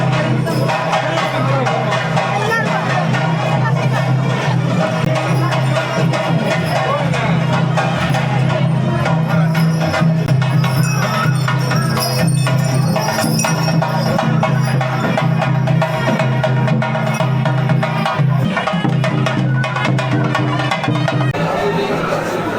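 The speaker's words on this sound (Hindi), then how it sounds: "भीड़ तो बहुत हो गया है" A large crowd mills around the Kanyakumari temple, a dense, continuous murmur of many voices with vehicle-like rumble underneath, loud and close throughout.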